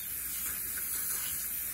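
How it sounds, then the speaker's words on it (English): Cooking spray hisses steadily from an aerosol can onto a serving dish being prepared for an alcohol- and egg-free tiramisu, a continuous close spray with no talking. "Spray your serving dish"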